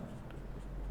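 Pen or marker writing an equation by hand during a physics lesson, a faint steady scratching against a low room hum, with no talk.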